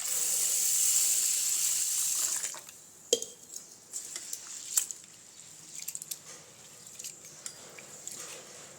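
Urad dal and rice being washed together in water in a pot for idli batter: soft splashing and stirring with small clinks of utensil against metal, near and fairly quiet, with no talking.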